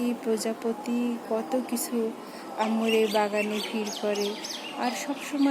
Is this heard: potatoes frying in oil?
no